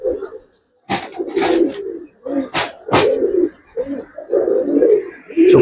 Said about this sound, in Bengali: ডিপজল সাহেবের কবুতর